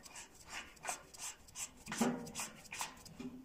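A Fritz DECT 302 radiator thermostat is screwed by hand onto a radiator valve, giving soft repeated rubbing and plastic scraping sounds in close, quiet bursts.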